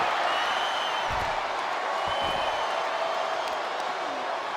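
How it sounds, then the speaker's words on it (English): Steady roaring arena crowd in the WWE 2K25 wrestling video game during an Undertaker versus Goldberg casket match, a broad continuous cheer with a couple of low thumps beneath. "Listen to this crowd."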